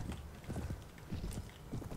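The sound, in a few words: horses in the video game Anno Domini 1257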